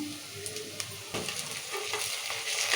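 Ginger-garlic paste sizzling in hot oil in a pan for village-style chicken curry, a steady close crackle and hiss with occasional stirring scrapes, growing slightly louder toward the end.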